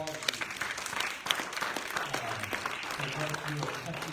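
Steady applause from a crowd at a panel discussion during Black Labor Week, dense clapping that carries through the whole stretch, with a voice speaking faintly underneath.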